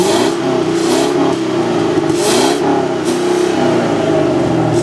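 A Chevy Camaro SS 6.2-liter V8 in a 2015 convertible revs steadily and loudly for about five seconds, a continuous deep engine drone that rises and falls in a few surges with no talking.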